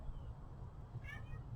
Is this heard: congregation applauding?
no